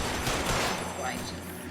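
Brief burst of gunfire during a shootout in the video game L.A. Noire, a few cracking shots over a busy, noisy background.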